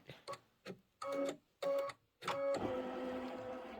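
A Kimberbell embroidery machine stitches a quilt's outer border in the hoop, making quiet, rhythmic mechanical chattering bursts with short pauses between runs, then continuing more steadily.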